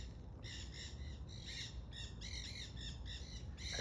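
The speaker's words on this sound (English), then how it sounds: "Parrots in the background." Parrots squawk repeatedly in a tropical garden with mango and passion fruit trees, harsh bursts in an irregular rhythm over a constant low background rumble, moderately distant.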